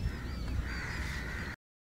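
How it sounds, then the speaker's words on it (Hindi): Crows caw over open farm fields, a few harsh calls overlapping close by against steady outdoor background noise, then the sound cuts off abruptly. "कौवा चिड़े बहुत उड़ रहे हैं यहाँ पे"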